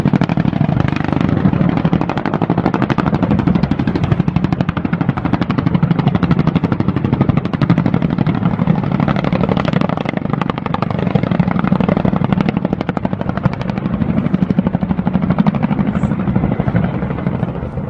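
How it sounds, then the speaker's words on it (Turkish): A Turkish T129 ATAK attack helicopter runs with a continuous loud rotor and engine roar, steady and close, with no speech. "Helikopteri de şimdi yerli yapım Atak helikopterleri"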